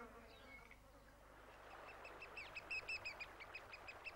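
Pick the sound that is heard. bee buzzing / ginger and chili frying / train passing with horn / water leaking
bee buzzing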